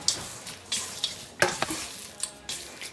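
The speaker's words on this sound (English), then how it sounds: "you're just gonna like fold it in with like a paddle and just mix it all together" Chocolate chips being folded into cookie dough with a paddle, several brief scraping and thudding strokes at an uneven rhythm, fairly close and alone.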